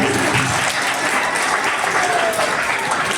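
An audience at a Republic Day function claps for a retired police sub-inspector, producing dense, sustained applause at a steady level, with some murmured voices mixed in.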